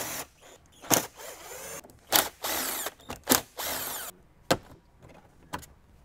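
A power driver removes T30 bolts from the grab handle inside a 2021 or later Ford Bronco. Several short, loud whirring bursts come one after another, with brief pauses and quieter clicks between them.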